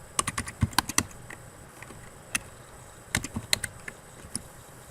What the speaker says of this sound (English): So we'll type in barcode for the study aid.